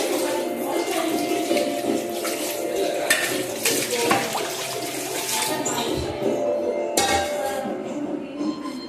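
Water streams across a granite kitchen counter and drains into the sink, a steady splashing trickle with clinks of dishes and a few sharp knocks, a voice talking at times.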